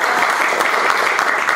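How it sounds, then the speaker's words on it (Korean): Dense applause from a church congregation, steady and loud throughout, a full room clapping together with no voices standing out. "야 쟤들 예배 2번 드리도 박수 쳐줘 박수."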